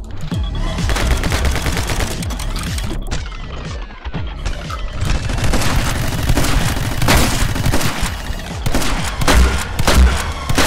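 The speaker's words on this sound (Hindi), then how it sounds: "शॉटगन से क्या आवाज आ रही" Rapid, loud bursts of gunfire, shotgun blasts among them, in the action game My Friend Pedro, with dense overlapping shots and booms running almost continuously.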